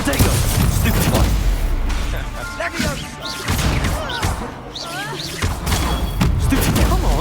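Spell blasts from wand combat in the Hogwarts Legacy video game, a dense run of booming impacts, thuds and crashes under steady game music, with someone shouting spell names over the action.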